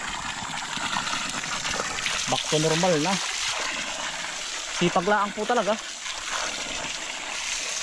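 Water flowing steadily through a rice field channel, a continuous rushing trickle and splash beneath someone speaking at close range.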